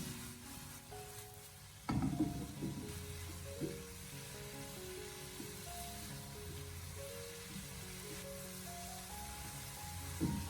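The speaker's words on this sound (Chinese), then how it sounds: "这个时候，我们再立刻的将它调为大火，给它快速的翻炒起来" Broccoli and pork tossed in a wok over high heat, a continuous close sizzle broken by loud clanks and scrapes of a metal spatula against the wok, with faint tonal background music underneath.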